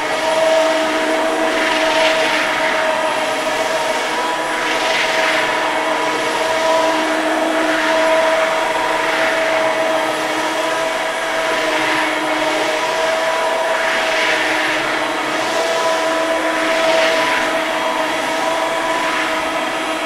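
A MOVA X4 Plus cordless wet-dry vacuum mop runs in its automatic solution-adding mode, giving a loud, steady motor whine with gentle rhythmic surges of suction hiss as it moves back and forth.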